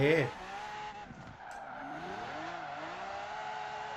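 A car drifting in the Forza Horizon 4 video game, opening with a sharp tire squeal, then an engine note that sweeps up and down through gear changes at moderate, steady loudness.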